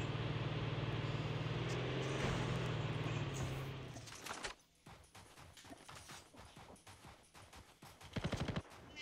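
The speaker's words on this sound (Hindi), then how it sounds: "तुम मशीन गन चला।" Machine gun fire from a car-mounted gun in a Call of Duty battle royale match: after a steady engine drone, rapid bursts of shots crackle in quick rhythmic runs, fairly loud and close.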